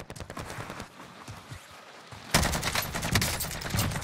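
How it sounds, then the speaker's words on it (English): Rapid AK rifle fire in the Warzone video game, set in Verdansk, with a dense burst of shots that grows louder and harder after the midpoint, close and loud, with some quieter rattling before it. "the recoil on this AK is redonkulous"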